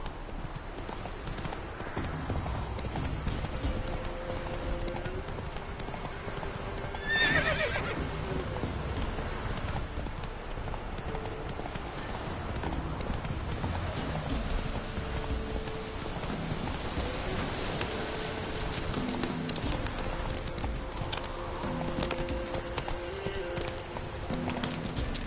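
A horse gallops in the video game The Witcher 3, its hooves clip-clopping steadily over a hiss of falling rain, with a brief whinny partway through.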